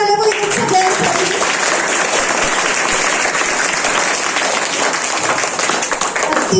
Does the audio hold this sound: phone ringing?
no